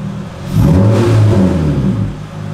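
An Acura TL Type S with a budget aftermarket exhaust revs up from idle, a loud close deep-toned engine swell that holds for over a second and then eases back, with no talk.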